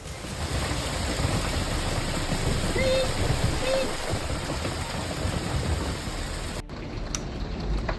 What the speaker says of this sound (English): Hail pours down in southern Illinois as a street vendor quickly shuts down the stall.